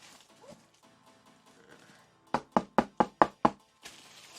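Six sharp knocks strike an LTGEM hard keyboard case in a quick, even series, giving close, hollow taps after some quiet rustling.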